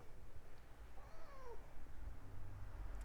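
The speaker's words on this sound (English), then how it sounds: "We're having an intermission by Taco Cat" A cat meows faintly a couple of times in a quiet room, soft drawn-out calls set against low background hum, with no talking.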